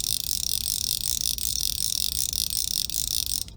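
Line pulling out from an Orvis Battenkill Disc fly reel sets off a rapid, unbroken clicking ratchet that sounds like a dense rattling buzz, heard up close and steady before it stops abruptly at the end.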